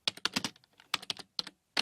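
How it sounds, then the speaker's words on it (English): Quick bursts of typing on a computer keyboard, clusters of sharp close keystrokes separated by short pauses, with no talking. "And then he spends close to 6 minutes typing."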